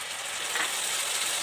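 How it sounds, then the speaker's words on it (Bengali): Spice paste goes into a hot pan, giving a brief, even hissing sizzle that is close and steady, with no voices. "পেস্টটা দিয়ে দিচ্ছি"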